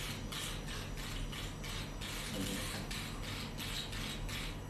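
Electric handheld frother whirring steadily while blending milk into foam for a Thai iced milk drink, a continuous close mechanical buzz with a gently pulsing rhythm and no talking.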